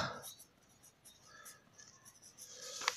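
A pen or marker scratches out roots while working a 10th class maths exercise, with faint, soft strokes in short bursts against a quiet background.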